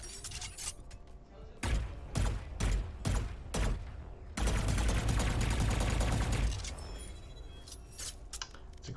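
A weapon reload with a new skin in a first-person shooter, a burst of sharp metallic clacks and rapid gunfire-like snaps in clusters, then a long dense stretch of clattering mechanical noise that fades into quieter ticks.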